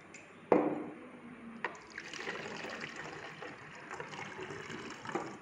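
Water is poured from a glass into a container for a vinegar eel culture, a steady close splashing trickle starting with a sharp initial splash and continuing on its own.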